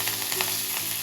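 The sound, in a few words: curry leaves sizzling in hot oil tempering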